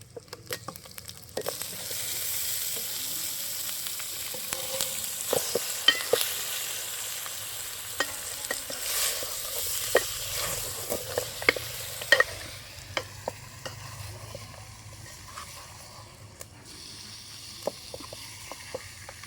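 Country chicken curry stirred in a pan over a wood fire, a soft steady sizzle with repeated scraping and clacking strokes of the spoon, fairly faint and close.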